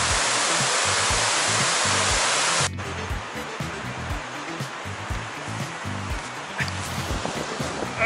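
Water rushes over the overflow spillway of a reservoir in Sisaket Province, Thailand, a loud, constant roar of broadband noise that drops somewhat midway yet continues as a steady wash.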